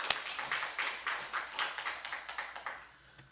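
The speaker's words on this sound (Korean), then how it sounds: "하나님께 영광의 박수 올리겠습니다." Church congregation clapping in praise, rhythmic claps in a steady beat, quiet and somewhat distant in a large room.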